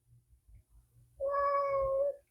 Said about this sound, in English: You hear the cat?